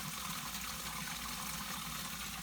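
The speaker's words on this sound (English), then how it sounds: "it's sucking the water right out" A Python siphon drawing aquarium water into a sump, a steady, quiet, continuous gushing and sucking hiss with a low hum beneath, even and unbroken, with no talk.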